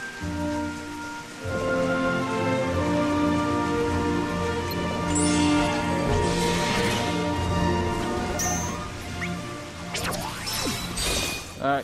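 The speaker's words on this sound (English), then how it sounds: "Starts raining" Steady rain pours down in the Kingdom Hearts 3D video game, a dense continuous hiss under game music, with occasional louder impacts and effects toward the end.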